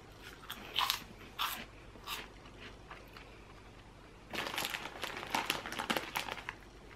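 Airy paprika cheese puff snacks are bitten and chewed close up, with several distinct crunchy bites followed by a longer stretch of loud chewing and crinkling, and no talk.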